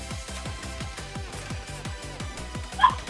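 Rapid, rhythmic barking from a dog in a video game, a steady run of short repeated barks over game noise, with a brief sharp sound near the end.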